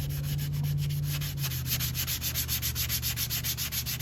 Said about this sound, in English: You're using a fine enough grit to just sand everything nice and flat.